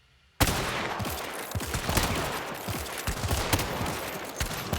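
Rapid rifle fire from the 1865 Carbine and Cyclone in the game Hunt: Showdown 1896, loud, close and dense shots overlapping into a continuous volley after a short silence.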